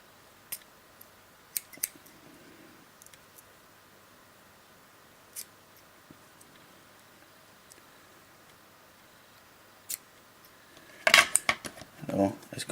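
Cutting off excess wick pieces from a vape coil with scissors: a few sparse, sharp snips and clicks spread over quiet stretches, then a louder cluster of handling noise near the end.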